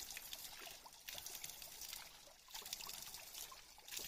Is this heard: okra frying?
no